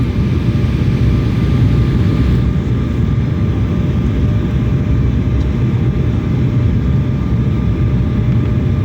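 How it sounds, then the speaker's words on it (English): Airliner cabin on final approach to LAX: a loud, constant low engine and airflow roar fills the cabin without letup, with a faint steady tonal hum above it. "Now from here, we're getting really close to landing."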